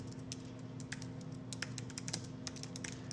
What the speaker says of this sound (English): And then what you do is you type in your prompt.